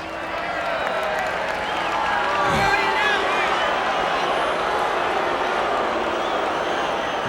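A tennis crowd at the 1989 US Open quarterfinal between Andre Agassi and Jimmy Connors reacts to a disputed Agassi shot. Their loud, dense murmur swells briefly and then holds steady throughout.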